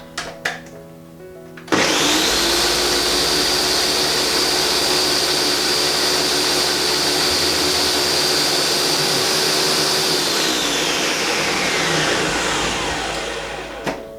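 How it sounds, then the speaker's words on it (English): A kitchen blender roars loudly and continuously for about twelve seconds while finishing a vegan sauce, its motor whine steady and close before winding down at the end. "And then just finish off the blend."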